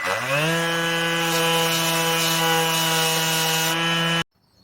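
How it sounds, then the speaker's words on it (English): Electric sander stripping paint from an old wooden bar stool, a loud steady high-pitched motor whine with grinding abrasion that runs continuously and then cuts off abruptly near the end. "The curvature areas here, we might have to use the tip that came with the actual sander to see how it comes out."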